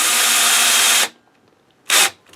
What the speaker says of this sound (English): with a drill gun, you can get this done on every chair in about 10 seconds